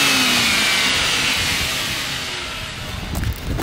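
Cop car lightened by 1000 lbs, its engine revving loudly and close, a steady roar that eases slightly then rises again toward the end, with no talking.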